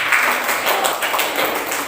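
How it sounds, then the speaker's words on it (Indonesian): Classroom applause for a student discussion group in an Indonesian lesson, a steady wash of many hands clapping at moderate loudness, without clear speech over it. "Ya, tepuk tangan untuk kelompok 2."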